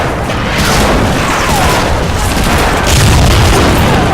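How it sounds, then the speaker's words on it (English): A fence blown apart by an explosion in the Medal of Honor Frontline video game, a loud sustained roaring blast with debris and rumble filling the whole moment, no speech. "All right, Jones, let's blow this fence! Fire in the hole! Fire in the hole"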